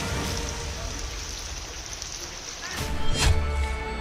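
Heavy rain falls steadily during a downpour in the hills of Himachal and Uttarakhand, a dense continuous hiss with a slight swell near the end.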